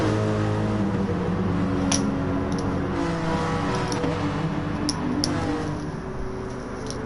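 Honda NSX and BMW race cars running close together in a DTM league race at Brands Hatch in Gran Turismo Sport, with a steady loud engine drone throughout, high whine harmonics and occasional sharp ticks, fading slightly near the end.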